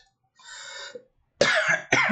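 A sick person with a hoarse voice gives a breathy throat sound, then two harsh, close coughs in quick succession, with no talk.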